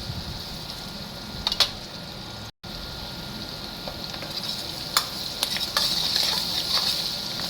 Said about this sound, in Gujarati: જો તો સરસ આપણી ડુંગળી સોતે થઈ ગઈ છે, એકદમ સરસ રીતે થઈ ગઈ છે.